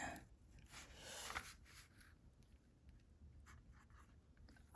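Fountain pen with a limited-edition nib scratching across paper in short writing strokes, fairly close and quiet, with a busier burst of scribbling early on and lighter intermittent strokes afterward.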